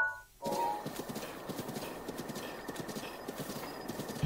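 Steady clip-clop of horse hooves trotting at a brisk, even rhythm in The Legend of Zelda: Breath of the Wild, fairly close, with a faint background tone and no speech.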